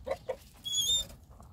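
Chickens in a farm pen holding many fowl and three roosters, a couple of short clucks followed by a brief higher squawk, close and fairly faint over a low background rumble.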